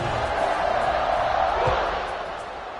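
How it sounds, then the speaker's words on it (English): Crowd noise in a college football video game, Nebraska versus Clemson, a steady loud stadium buzz that fades slightly toward the end. "this crowd is buzzing after that last score."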